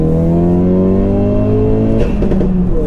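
A 430bhp Ford Focus RS estate revs hard and loud from close by with a steady droning roar, then the note breaks into a rougher burst as the launch kicks in.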